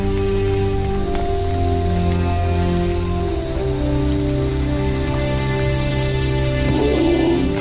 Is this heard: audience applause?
no